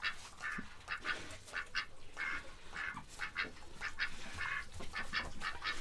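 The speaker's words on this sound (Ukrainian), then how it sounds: "Це ж у нас домашні качечки." Domestic ducks in a farmyard quack repeatedly in rapid, overlapping bursts, a busy chorus of fairly close calls with no talking.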